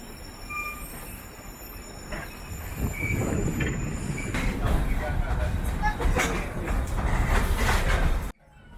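St. Kitts Scenic Railway train cars roll slowly over tall bridges, a steady rumbling clatter with wheel squeals, growing louder toward the end before cutting off abruptly.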